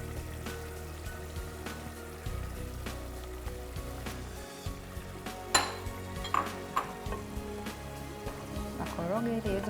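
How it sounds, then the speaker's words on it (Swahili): Spoon stirring an eggplant and tomato mixture in a cooking pan for vegetable rice, with soft scraping and gentle sizzling, a few sharper clinks against the pan; quiet, close and steady. "koroga ili iweze kuchanganyika vizuri na nyanya na bilinganya"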